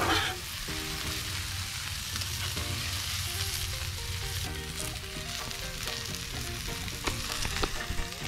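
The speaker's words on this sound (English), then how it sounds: "we're gonna flip our tuna fillets over" Tuna steaks sear on a Blackstone griddle, giving a dense, continuous, loud sizzle that carries close throughout, with faint scraping as they are turned. No voices.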